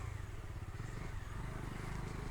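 Bajaj Dominar 250 motorcycle engine heard from the passenger seat while riding, a steady low rumble with continuous pulsing exhaust beat and wind noise, fairly faint and unbroken throughout.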